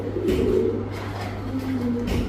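A jet-black Spanish pouter pigeon gives a few soft, low cooing notes, close and quiet over a steady background hum.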